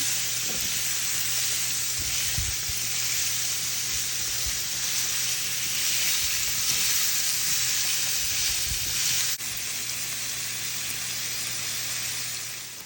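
Carrots frying in a hot pan give a steady, even sizzle, loud and close, running unbroken with a few faint clinks underneath and no talking.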